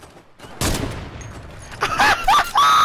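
Rapid gunfire bursts in a Fortnite match, a burst of shots followed by sharper repeated cracks, loud and close over game noise.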